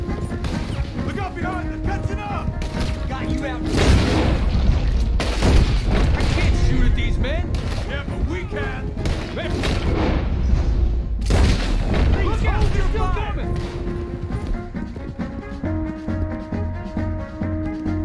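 Loud bursts of gunfire and heavy booming impacts in a dramatic scene, with crashes and shots overlapping a dense orchestral-style background throughout.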